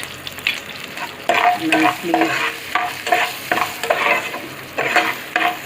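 Hing and turmeric are stirred and fried in a pan for palak lemon rice, giving a steady close sizzle broken by repeated scraping strokes of a spoon at an even rhythm, with no talking.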